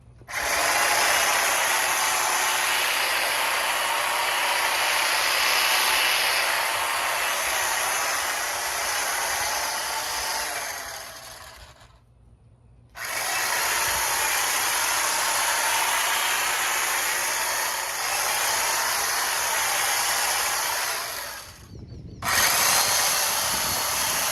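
A vintage Black & Decker electric hedge trimmer cuts through a bush, its loud steady buzzing blade running in long bursts with two brief pauses and a final restart.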